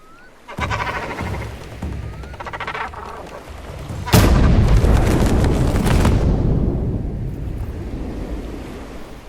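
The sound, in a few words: explosion of gunpowder shipment in video game Assassin's Creed Shadows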